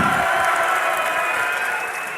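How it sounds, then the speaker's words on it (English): A live crowd at a League of Legends esports finals cheering, a dense roar of voices and applause that fills the whole moment at steady loudness, easing slightly at the end. "I think we need a third cheer mixed into that too."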